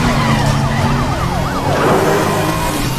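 Police car sirens wail in a racing video game, their sweeping up-and-down tones layered over a loud, steady engine roar with no talking.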